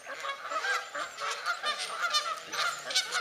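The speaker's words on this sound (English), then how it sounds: "White goose walking on water." A white goose honks repeatedly outdoors near water, a continuous run of nasal calls at moderate distance for a few seconds.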